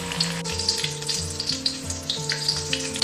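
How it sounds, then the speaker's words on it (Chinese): Batter-coated marinated pieces deep-fry in hot oil over medium heat, giving a steady, close crackling sizzle with small pops throughout, while tonal background music plays beneath. "然后开中火炸"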